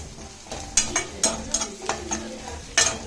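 A spoon stirs onion masala with garam masala and chilli powder in a pan for paneer keema rice, giving a run of sharp, rhythmic scraping strokes over a low sizzle, close by and with no voices.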